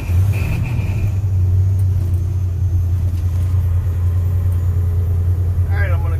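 A car's engine, slowing and downshifting for a turn with double clutching, gives a steady, close, low rumble that holds nearly even throughout, with no marked revving.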